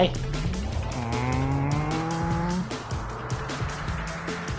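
Car driving in a VR racing game on a PICO 4 headset, its engine note rising in steady upshifts and then dropping away as tires squeal, with someone talking throughout.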